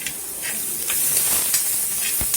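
Chopped onion sautés in a pan with a soft, steady hiss and light sizzling, broken by a few brief stirring scrapes. The sound is moderately close and has no voices over it.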